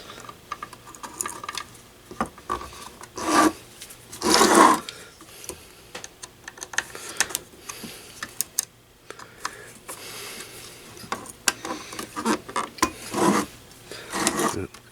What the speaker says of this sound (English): here we have some small screws that's got to be loosened up on the side.